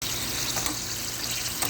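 Shrimp saute over high heat in a hot pan, giving a dense, continuous sizzle that stays close and even throughout.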